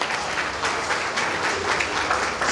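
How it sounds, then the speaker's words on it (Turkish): Audience applause at a Turkish literary and arts award ceremony, dense continuous clapping filling the hall at an even, moderately loud level with no voices over it. "alkışlarınızı efendim davet ediyoruz"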